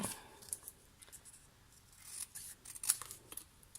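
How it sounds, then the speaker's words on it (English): Sharp snips trimming the edge of stamped card stock, a run of quick close cuts in irregular rhythm, crisp and fairly quiet with no talking. "I'm going to trim a bit off. I'll get my favourite snips out."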